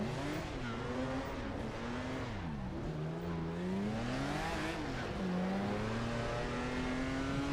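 Classic race car engine revving hard on a circuit during a classic motorsport race, loud and close with continuous rising and falling pitch as the driver shifts through gears, no talk.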